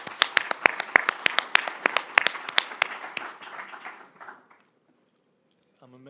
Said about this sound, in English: So really a round of applause to everyone.